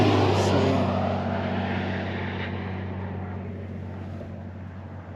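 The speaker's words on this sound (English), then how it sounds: "there's this truck coming that way." A truck approaches along a winding road through endless trees, a broad low engine rumble and tyre roar filling the air, strongest at first and then easing slightly as it carries on, with no talk over it.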